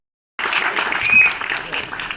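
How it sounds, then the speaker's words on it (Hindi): A crowd bursts into loud, sustained applause for actor Manoj Bajpayee at the Bhaiyaji trailer launch. The clapping starts abruptly after a brief silence and holds steady, close and full, to the end. "भैया जी के लिए जोरदार ताली।"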